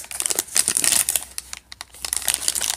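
Trading card packs being torn open by hand, a dense run of crinkling foil wrapper and ripping paper, close and fairly loud, with a brief lull midway before the crackling resumes.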